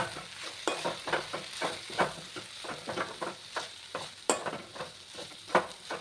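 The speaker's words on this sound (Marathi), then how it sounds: "आता आपण हे परत मिक्स करून घेणार आहोत" Moth bean curry with crushed peanuts being mixed in a pan, a fast rhythmic series of spoon scrapes and stirs over a soft sizzle, close and steady.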